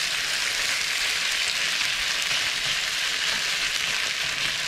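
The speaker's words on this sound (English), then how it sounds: "Just frying away again." Beef browning in a pot for a winter stew, a continuous close hiss of frying fat that stays steady and loud throughout with no talking.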